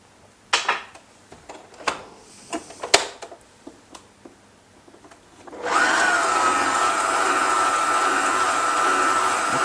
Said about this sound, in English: For this I'm using our electric whisk because it's just a bit quicker.